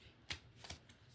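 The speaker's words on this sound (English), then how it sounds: "Show you that I'm shuffling." Tarot cards being shuffled by hand, three quick riffling bursts spaced apart against a quiet room, close and soft with no voices.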